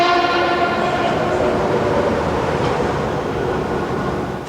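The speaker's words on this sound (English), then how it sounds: "today you can get a new light railway from downtown to Long Beach, the blue line here" A Los Angeles Blue Line light rail train running between downtown and Long Beach in 1994 passes close by with a loud rumble and sustained horn tones, easing off slightly toward the end.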